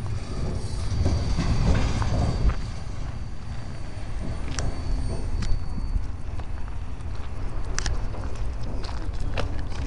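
An intermodal freight train rolls past close by, a continuous loud rumble of wheels with rhythmic clacking over rail joints and occasional faint squeals.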